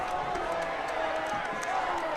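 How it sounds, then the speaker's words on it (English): Crowd at a high school homecoming football game between Lassiter and Pope, cheering as a steady, fairly distant roar that holds throughout, with an announcer talking over it. "Crowd is into it"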